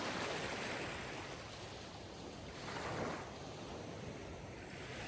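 Ocean surf washes in steadily, a broad continuous roar of breaking waves with soft swells in loudness, no voices over it.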